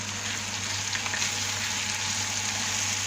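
Kokoreç sautéing with spices such as thyme, cumin, curry and black pepper in a pan: a steady, even frying sizzle, close and continuous, with a low hum underneath.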